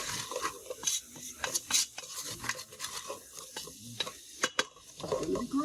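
Onions and peppers cooking in a pan with beef, stirred and scraped repeatedly with a utensil against the pan, busy irregular clatter over a quiet sizzle.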